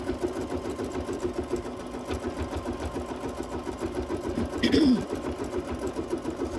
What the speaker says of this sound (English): So I'm going to stitch these down